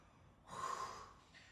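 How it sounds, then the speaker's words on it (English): Heavy open-mouth breathing during a bioenergetic workout stretch: one long, loud breathy exhale-like gasp swelling up and fading, close to the mic, with no talking. "breathing through the mouth"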